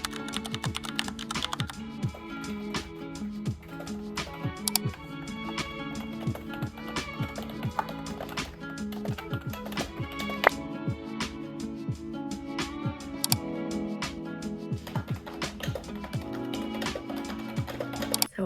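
Steady typing on a computer keyboard during a writing session, with continuous clattering key taps running the whole time over a backdrop of soft music.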